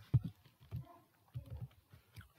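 Computer keyboard keys are tapped in a few quiet, close clusters with short pauses between the bursts, with no voices heard.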